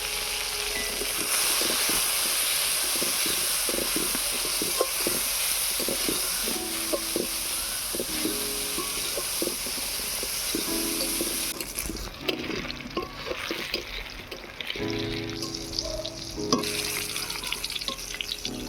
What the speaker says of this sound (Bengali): এবারে বেগুন ভেজে নেব। দিয়ে দিচ্ছি নুন,